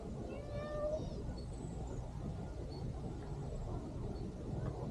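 A cat meows a few times in the first second at a campsite on Mount Alapo, then falls quiet under steady outdoor rumble and ambient noise.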